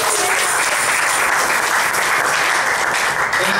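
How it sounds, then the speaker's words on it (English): A crowd gives a round of applause for volunteers at a community event in a rented center building, a dense, loud, unbroken wash of clapping that holds steady from start to finish. "Let's give them a round of applause."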